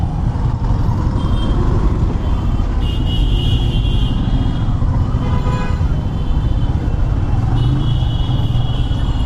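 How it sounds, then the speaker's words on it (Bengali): A motorbike pushes through a Dhaka traffic jam, engines rumbling loudly and continuously around it, with occasional brief higher whines from surrounding vehicles. "এইখানে আপনি দক্ষ ড্রাইভার না হলে ঢাকা শহরে বাইক চালাতে পারবেন না।"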